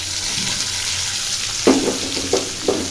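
Onions sizzling in hot oil in a kadai, a steady close hiss of frying with a few soft stirring knocks near the end.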